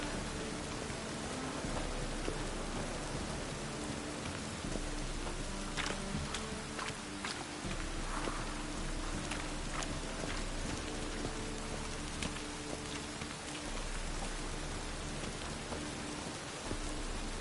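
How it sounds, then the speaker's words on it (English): Video game rain falls in a steady, dense patter on surfaces, an even hiss with scattered louder drops that carries on without a break. "Rain again."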